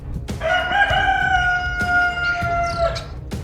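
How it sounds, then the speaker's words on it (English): A rooster in a Minecraft game crows once, a clear, loud, drawn-out cock-a-doodle-doo lasting about two and a half seconds, set among a few sharp clicks and soft background noise. "if you heard that rooster crow, you know it's time to wake up"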